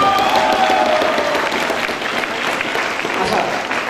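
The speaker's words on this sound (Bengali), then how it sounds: "সবাই তাদের জন্য একটা হাততালি" An audience at a university freshers' reception breaks into loud, dense applause that fills the room and holds steady, with some crowd noise and voices mixed underneath.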